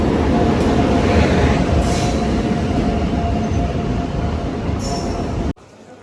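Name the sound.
train arriving at a rural railway station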